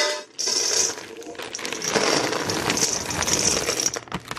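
Semi-sweet chocolate chips pour into a bowl, a steady, close pattering rattle that runs for several seconds with no talk.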